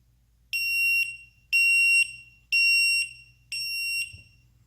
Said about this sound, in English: So the third cell, once it went below 3 volts, the alarm rang.